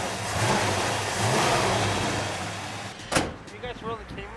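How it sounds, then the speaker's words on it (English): A 1964 Buick Skylark engine runs with a smooth, quiet mid-pitched drone that swells and eases, followed by a sharp thump like a door closing and a few short squeaky sounds. "It sounds like a sewing machine when it's running."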